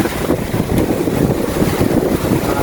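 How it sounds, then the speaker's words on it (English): Strong wind buffets a sailboat running at speed off Stockton Beach, heading south from Newcastle toward Port Stephens in 24 knots; a steady, loud roar of gusts on the microphone mixes with rushing water along the hull, with no voices. "24 knots of wind."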